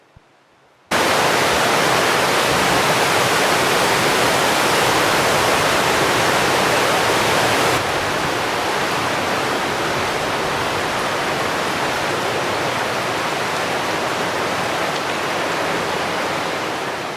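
Waterfalls pour through a cave landscape with an underground river, a dense, loud, unbroken roar of rushing water that starts abruptly and carries on steadily, slightly softer partway through, with no voices.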